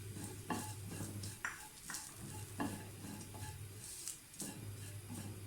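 Grated coconut fries in a pan, a low sizzle broken by repeated sharp scrapes and clinks of a spoon stirring against the metal, close and without talk.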